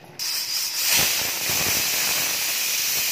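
A pressure cooker releases a loud, steady hiss of steam while potato and green peas biryani cooks. The hiss starts abruptly and continues unbroken for about three seconds with no voices.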